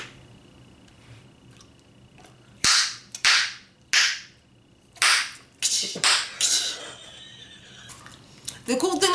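Bazooka bubblegum bubbles pop in a series of sharp, close snaps, about six or seven spaced a second or so apart, over a quiet room tone, with faint rustling toward the end.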